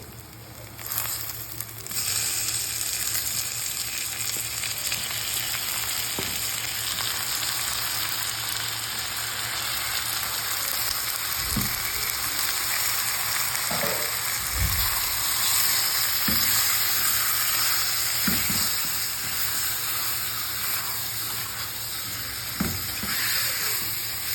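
Washed chicken pieces frying with turmeric in a pan, a loud steady sizzle and hiss throughout with occasional thuds and scrapes from stirring.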